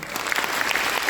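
An audience at a school Christmas performance breaks into brisk applause, a dense burst of clapping lasting about a second.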